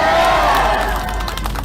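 A large outdoor political rally crowd in a public square roars and shouts together, a dense, loud wall of cheering voices with scattered whoops that stays intense throughout.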